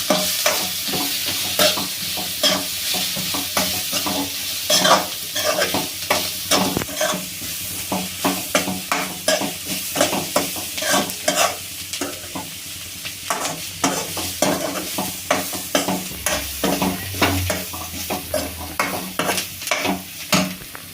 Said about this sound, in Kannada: ಆಮೇಲೆ ಖಾರ ಪೌಡರ್ ಹಾಕಿ ಇದಿಷ್ಟು ಮಿಕ್ಸ್ ಮಾಡೋಣ